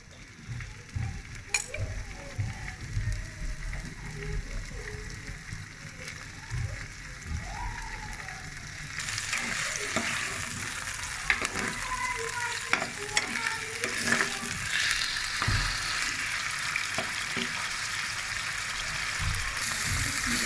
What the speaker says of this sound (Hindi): इसमें मैंने 4 से 5 टेबल स्पून ऑयल डाला। अब इसमें मैं चिकन डालूँगी।